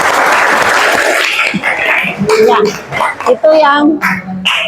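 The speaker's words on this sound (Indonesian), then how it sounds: "Jadi iya, oke, tepuk tangan." A high school classroom bursts into a short round of clapping that fades within about a second, after which students chatter and talk close by.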